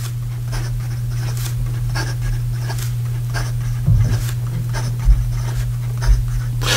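Graf von Faber-Castell Guilloche fountain pen with an extra fine nib writing fast on paper: a soft, steady run of quick scratching strokes, close and fairly quiet over a constant low hum.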